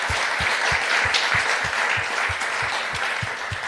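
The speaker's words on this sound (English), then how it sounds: "So I'd like to invite a round of applause for the judges." An audience at a 2023 business design competition in the Cayman Islands applauds the judges, a steady roomful of clapping that swells briefly and holds at a moderate, even level throughout.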